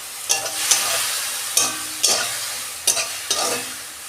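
Jhinge flowers fry in a hot pan with a steady sizzle, broken by about six sharp scrapes of a spatula stirring them at a loose, uneven pace.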